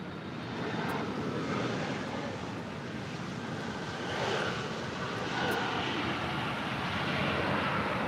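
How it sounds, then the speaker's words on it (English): United Airlines jet airliner, Flight 1376, departing LAX for Houston Intercontinental: a steady, fairly distant broadband engine roar that holds throughout and swells slightly toward the end, with some wind rush over the microphone. "That was United Airlines Flight 1376 departing to Houston Intercontinental."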